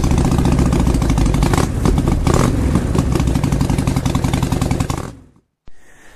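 A Harley Sportster 48 engine idles with a loud, close, lumpy rhythmic thumping and mechanical clatter, then cuts off abruptly near the five-second mark, leaving brief silence and a faint click.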